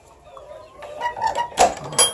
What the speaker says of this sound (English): some roosters here in the cages